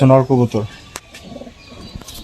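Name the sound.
pigeons cooing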